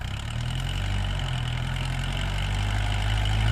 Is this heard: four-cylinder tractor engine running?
yes